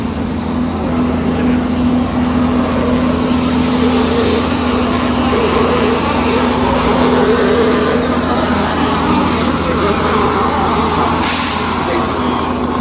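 A car drives past on sticky tires, its engine and road noise forming a loud, steady roar throughout before it brakes hard. Voices can be heard faintly under the noise.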